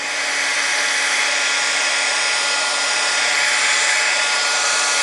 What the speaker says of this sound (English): But I'm going to hit it with my heat gun a little bit.